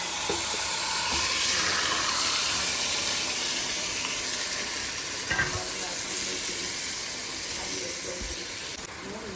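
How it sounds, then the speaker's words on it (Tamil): Chettinadu chicken curry cooking: a kilo of chicken marinated in salt, turmeric, Kashmiri chilli powder and ginger-garlic paste sizzles in frying onion and tomato, a loud, steady hiss that fades slightly at the end. "இப்போ இந்த வதங்குற இந்த வெங்காயம் தக்காளி கலவையில் நம்ம ஊற வச்சிருக்கிற அந்த சிக்கனை இப்போ இதில் வந்து போட்டு போகிறோம்"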